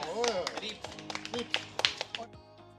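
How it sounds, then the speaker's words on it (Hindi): Scattered hand claps from an audience at an Indian educational event about a nature school, about a dozen sharp uneven claps spread over a few seconds among murmuring voices. "तालियां।"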